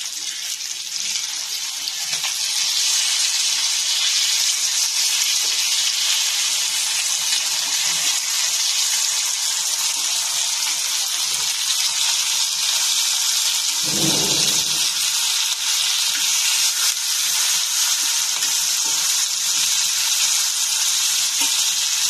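Curry leaves frying in hot oil in a pan, a steady, loud, hissing sizzle that keeps going without a break, with a brief low clunk partway through.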